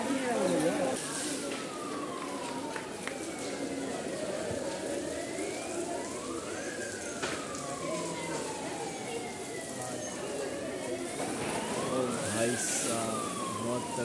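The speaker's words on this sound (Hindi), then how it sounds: "गाड़ी आ चुकी है फायर ब्रिगेड की।" A fire engine siren wails up and down in repeated sweeps at a large building fire, somewhat distant, over a constant wash of background noise.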